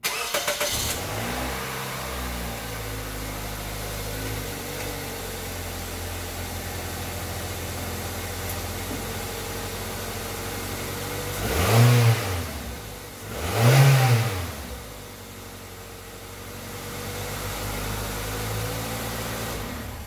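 A 2003 Toyota Corolla engine, just fitted with a repaired exhaust pipe and heat shield, idles steadily, then revs twice in two distinct swells before settling back to a smooth idle, close and with no talking.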